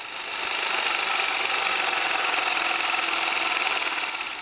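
A four-stroke motorcycle engine idles steadily while its carburetor is adjusted, giving a constant, even mechanical drone with a fast fine rhythm, close and continuous, with no talk.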